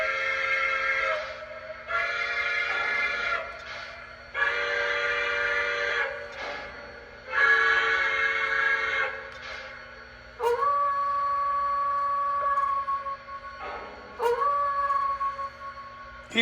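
Lionel LC+ 2.0 Hudson model locomotive sounding a series of steam whistles at different pitches, some long sustained blasts and some shorter ones, loud and clear with short gaps between them.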